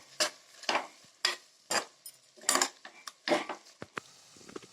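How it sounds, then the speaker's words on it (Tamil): Fresh mint leaves sautéed in a pan with softened tomato for a vegetable salna, a series of close metallic clanks and scrapes from a stirring spoon over a faint sizzle, with no talk. "இப்போ இதில் புதினாவை சேர்த்துக்கோங்க. இதையும் நல்லா வதக்கிக்கோங்க."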